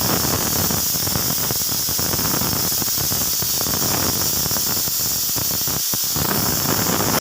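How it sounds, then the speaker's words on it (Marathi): A pressure cooker whistle cooking rice pulao, a loud continuous hissing steam release that holds steady for several seconds, close and alone. "इथे आपली सिट्टी कुकरची झाली"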